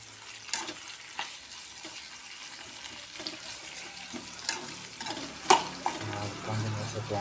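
Onions with mint and a few dried chillies sauté in a pan, giving a soft continuous sizzle broken by occasional spatula scrapes and taps, with a faint hum underneath toward the end.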